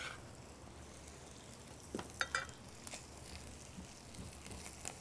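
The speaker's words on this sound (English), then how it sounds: "I don't think anything smells better than onions cooking" Onions sizzle quietly in a skillet, a faint, steady frying hiss with a few soft crackles and small stirring bumps near the middle. No one talks.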